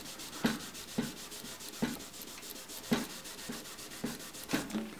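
Car paint being hand sanded with 3000-grit sandpaper: a quiet, regular back-and-forth rubbing, about two strokes per second, close up and alone.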